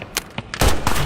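Gunfire in the film No More Bets: several quick, sharp shots in rapid succession, loud and close, with a heavier burst near the end.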